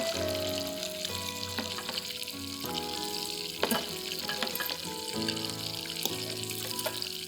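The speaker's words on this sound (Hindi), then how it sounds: "बैटर वाली प्याज में हम इसको डाल के और फ्राई करें।" Batter-coated onion fries in oil with a bubbling, crackling sizzle, and intermittent utensil knocks and stirring sound over a steady kitchen background.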